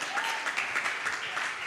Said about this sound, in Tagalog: Yung pinakamalakas, pinakamatunog nating palakpak para sa mahal na Panginoon.